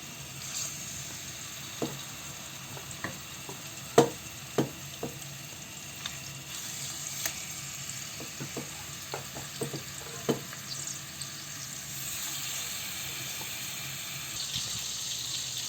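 A steady sizzle of oil frying fish runs throughout, punctuated by scattered sharp pops and spatters at irregular intervals, with no talking.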